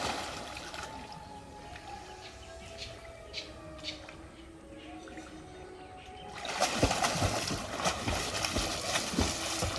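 Water splashes and churns in a village pond as people wade and swim in to gather plants, the sloshing rising abruptly midway after a quieter stretch with a faint voice.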